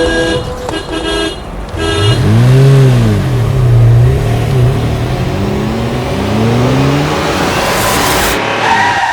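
A car on a road revs loudly and skids, with a swooping engine tone and a brief horn-like toot near the start, loud and close throughout.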